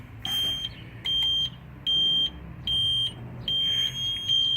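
A truck's low air pressure warning sounds as five short, high electronic beeps at an even rhythm, fairly close, with a low engine hum underneath and no talking.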